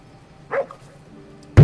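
A dog in a video game gives two short barks, a modest yip first and a louder bark a moment later, over faint game ambience.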